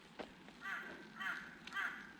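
A crow caws three times at a steady pace, faint and somewhat distant, with a couple of soft knocks in the quiet background.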